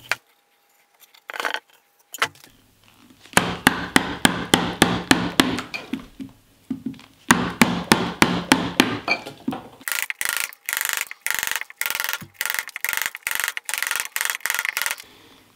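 Hand carving walnut bowl handles: a close series of sharp, rhythmic tool strikes and scraping cuts into the wood, coming in bursts with short pauses, loud and near, with no voices.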